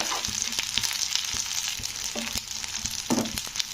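Turmeric powder fries in oil with ginger and garlic for a radish curry, a constant hiss of sizzling oil punctuated by repeated clicks and taps of a stirring utensil against the pan.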